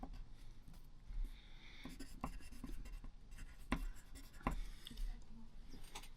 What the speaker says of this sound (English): I'm just writing down what we have to do.